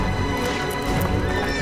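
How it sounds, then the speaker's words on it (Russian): A barely broken-in horse neighs loudly as its hooves clip-clop close by, with clattering and scuffling in a short, busy burst and no speech. "Конь-то у вас едва объезженный."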